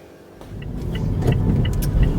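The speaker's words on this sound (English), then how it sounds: "we are in the car now" Car interior during driving: a low engine rumble and road noise build as the car pulls away and accelerates, with a few faint ticks and clicks, and no one speaking.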